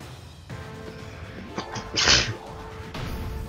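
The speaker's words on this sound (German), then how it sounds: "Oh, dauernd niesen gibt's ja nicht." A sneeze in the Pokémon Sun video game: one sharp burst of breathy noise over a quiet hum of game background music.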